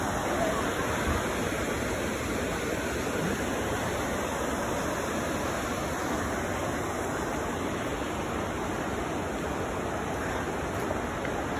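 Steady, full roar of Twin Falls near Smithers, British Columbia, dense rushing water filling the whole clip at a constant loud level with no pauses.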